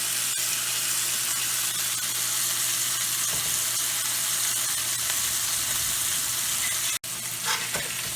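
A steak frying in a pan with butter gives a constant loud, hissing sizzle, close and unbroken, with a sharp short click near the end and no talking.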